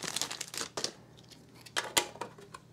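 Cardboard display packaging is torn out of a GeoWorld dinosaur skeleton kit box: several close, sharp crinkling rips and crunches in uneven bursts, separated by short quiet gaps.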